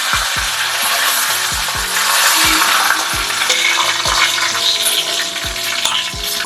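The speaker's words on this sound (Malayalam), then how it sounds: "വെളിച്ചെണ്ണ ഒഴിച്ചു കൊടുക്കുക ഒരു ടീസ്പൂൺ കടുക് ഇട്ട് കൊടുക്കുക രണ്ട് തണ്ട് കറിവേപ്പില ഇട്ട് കൊടുക്കുക രണ്ട് മുളക് ഇട്ട് കൊടുക്കുക" Mustard seeds, curry leaves and chillies sizzling loudly in coconut oil for Onam sadya madhura pachadi, a dense close crackle with repeated sharp pops as the seeds burst.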